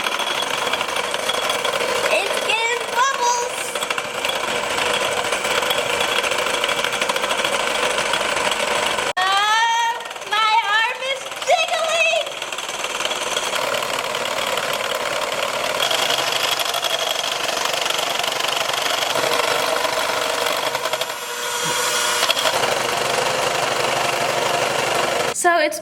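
An electric mixer whips Kool-Aid drink with a loud, continuous motor whir and rattle that runs throughout, while a person talks over it at times.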